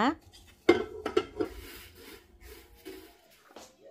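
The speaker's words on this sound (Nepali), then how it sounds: "ल एउटा प्लेटमा खन्याउँदैछु अब मसला।" Roasted spices for a lemon chilli pickle tipped from a pan onto a plate, a few scraping, rattling knocks of metal and grains, close and fairly quiet, with brief speech.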